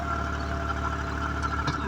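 A tractor runs in a field during wheat sowing, its engine a steady, faint, low chugging hum with an even knocking pulse and no talk.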